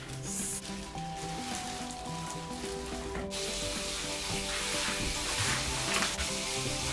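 Paksiw fish, already cooked in vinegar, sizzles and spatters steadily as it fries in a pan, a continuous close crackle with a low tonal hum of a fan or appliance underneath.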